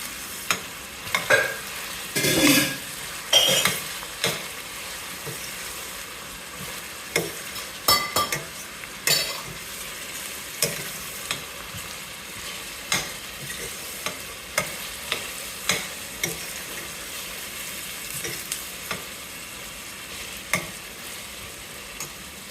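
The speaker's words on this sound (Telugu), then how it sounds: "చుట్టూ పులబెట్టుకుంటూ ఆనియన్స్ని బాగా ఫ్రై చేసుకోవాలి" Onions fry in a pan under a continuous low sizzle while a spoon scrapes and stirs them in repeated short strokes, close and moderately loud, with no speech.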